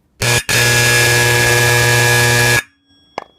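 A Simplex 4040 Vibratone fire alarm horn sounds in a loud, harsh buzzing blast, briefly cut once near the start, then held steadily for about two seconds before stopping; a faint click follows.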